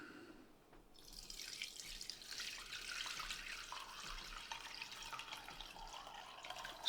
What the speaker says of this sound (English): I'm gently going to pour it